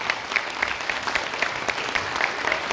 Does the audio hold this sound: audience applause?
yes